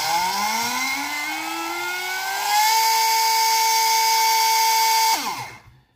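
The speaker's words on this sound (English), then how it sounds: "you'll move this wheel to spool it up to max RPM" An electric motor on a tuning analyzer spools up to its top RPM with a rising whine that climbs in pitch. The whine holds at a steady high tone for a few seconds, then winds down quickly when cut off.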